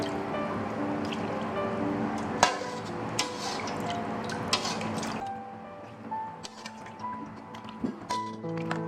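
Fish broth, boiled from the fish, is poured and dribbled into a Teuk Kroeng fish dip with green herbs, giving soft close trickles, drips and small clinks in a quiet kitchen.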